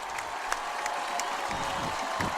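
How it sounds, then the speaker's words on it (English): Crowd at a high school football game, Summit HS vs Independence HS, applauding: a steady wash of clapping from a fairly distant crowd that continues throughout, with a few sharper claps standing out. "A round of applause."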